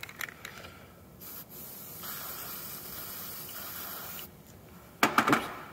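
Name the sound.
aerosol spray can spraying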